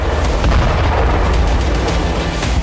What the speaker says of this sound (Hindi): अब से पहले जब जब पुतिन का क्रोध 7वें आसमान को छूता है, यूक्रेन में ऐसी ही तबाही होती है।